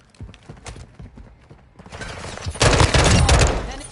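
Gunfire in the video game Modern Warfare 2, scattered sharp shots building into a dense, loud burst of rapid fire in the second half.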